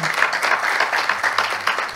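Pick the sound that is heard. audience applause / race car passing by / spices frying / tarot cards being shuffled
audience applause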